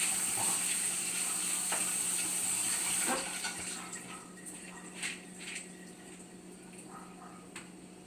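Water in a kitchen pot roils and bubbles at a steady, moderate level, with a hiss that eases after a few seconds, and scattered light clinks and knocks.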